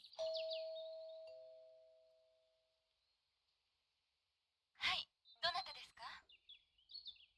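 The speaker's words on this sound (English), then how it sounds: "I'll ring the doorbell." A two-tone electronic doorbell chime in the video game Policenauts rings once and fades, followed after a pause by chirpy game-like voice sounds.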